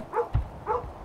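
A dog in the video game Kingdom: New Lands giving two short warning barks or woofs, close and fairly soft, with no talking.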